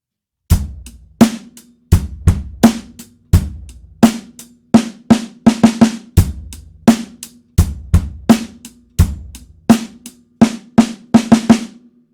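A snare drum plays a steady groove of sharp, crisp strikes in a repeating pattern, close and solo, with quick grace-note doubles between the main hits.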